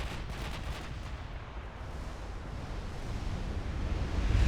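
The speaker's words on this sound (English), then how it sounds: "And the main wave of torpedoes starting to score hits." Torpedoes strike warships in a naval battle game set among dreadnoughts in the Caribbean, a dull, continuous rumbling roar of distant explosions that grows heavier toward the end.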